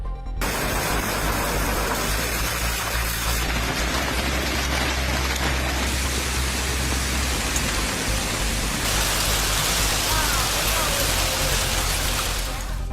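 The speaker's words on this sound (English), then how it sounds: "The intense storms, bringing large hail and strong gusty winds, continued moving through various regions." A dense, steady downpour from a California storm hisses across the whole clip, a heavy rain roar with constant spatter and low rumble underneath, loud and close.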